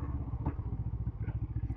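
A newly bought motorcycle runs close by, its engine giving a rapid, even, pulsing thump with a faint mechanical clatter, steady and moderately quiet, with no talking.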